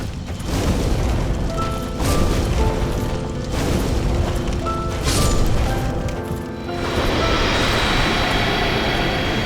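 Fire Tempest, a pyromancy spell cast in the Dark Souls video game, erupts as loud rumbling roars of fire in long booming surges over several seconds.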